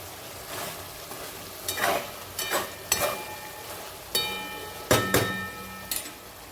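Mutton fries in a pan with red chilli and masala, sizzling steadily while a spatula scrapes and stirs in several sharp, close strokes; no one speaks.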